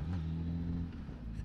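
A Suzuki GSX-S 1000 naked motorcycle engine revs close by, a deep throbbing growl that holds steady and then eases off over a brief moment, with no talk.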